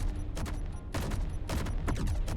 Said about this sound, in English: Basically we got our main big cannons here that have the nice bit of Daka Daka